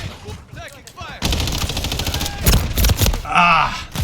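Rapid bursts of automatic gunfire from the Call of Duty first-person shooter, loud and dense, come in a sustained rattle with heavy booming shots, following a few seconds of quieter game sound.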